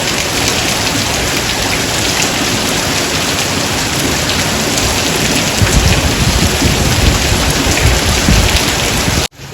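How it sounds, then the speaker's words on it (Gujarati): Heavy rain pours down steadily and loudly on surfaces, a dense continuous roar that swells slightly in the later seconds, with no voices. "આજે જોરદાર વરસાદ આવે છે"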